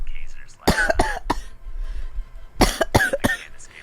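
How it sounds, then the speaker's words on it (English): Two bursts of harsh coughing, a few sharp coughs each, close and loud, separated by a short pause with a little background murmur. "I'm sorry if I'm coughing all over you."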